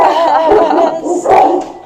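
A sweet, docile rescue dog up for adoption vocalizes in a drawn-out, wavering howl-like sing, loud and close, with a brief dip midway before the voice swells again.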